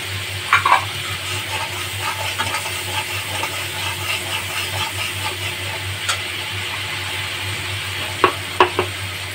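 Coriander-cumin paste is stirred in a pan, a steady sizzle with soft scraping strokes and a few sharp utensil clicks near the start and end, no voices.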